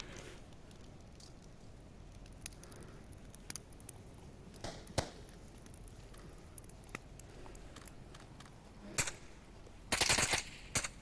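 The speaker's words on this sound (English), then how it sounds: "Well, I'm hearing the shooting at least." Sporadic distant gunfire in the VR shooter game Pavlov, faint isolated cracks scattered over a quiet background, then a short louder burst near the end.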